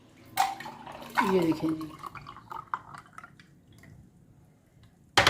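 Falsa juice poured into glasses, a short splashing pour with dripping, while a voice speaks over it.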